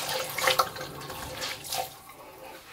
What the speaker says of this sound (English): I get warm water and I soak the entire washcloth. I wring it out just lightly